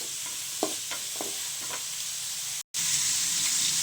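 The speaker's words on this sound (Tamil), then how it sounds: "லேசாக வதங்கட்டும்" Vegetables, capsicum among them, are lightly sautéed in a pan, with a steady close sizzle and a few soft stirring scrapes, broken by a brief dropout, with no talk.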